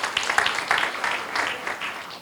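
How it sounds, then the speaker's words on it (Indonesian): A church congregation at a midweek fellowship service stands and claps for God: a short burst of fairly close clapping that fades slightly toward the end. "tepuk tangan yang keras buat Tuhan."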